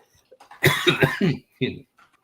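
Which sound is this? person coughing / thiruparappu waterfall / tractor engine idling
person coughing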